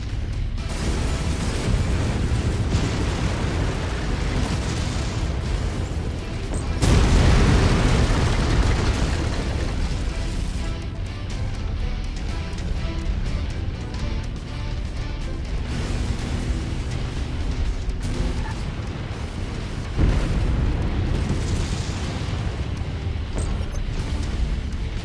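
Explosions of destroyed mechs in the MechWarrior 5 video game: loud, sustained booming blasts rumble through dense battle noise, with a strong burst around the seventh second and another near the twentieth.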